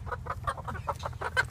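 Several backyard hens, Ameraucanas, Barred Rocks and Orpingtons among them, give a quick, rhythmic string of close, fairly loud clucks over a low background hum.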